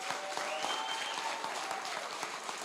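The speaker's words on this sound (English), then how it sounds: "ladies and gentlemen, give them a round of applause because this job isn't easy." An election-night crowd applauds, a dense, fairly faint wash of clapping hands holding steady throughout without talk.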